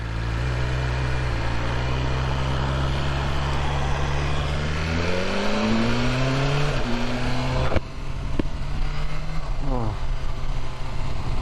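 A motorbike on new tyres rides out on the road, its engine droning steadily with wind noise and rising pitch through gear changes, loud and continuous, with a rider speaking over it.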